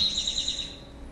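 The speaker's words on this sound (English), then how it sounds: "All 5 of those songs I played you were from one bird." Recorded songbird song played back, a brief high thin whistled phrase under a second long, fairly clear over a faint low hum.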